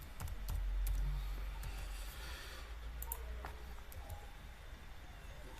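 Quiet keystrokes tap on a computer keyboard as someone types a database entry, scattered clicks over a soft background hiss.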